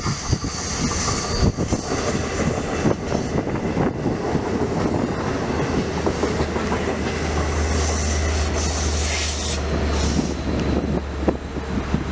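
A diesel locomotive pulling a train rolls past close by, a loud steady roar of wheels on rail with clattering and faint squeals, joined by a deep engine drone toward the end; no voices.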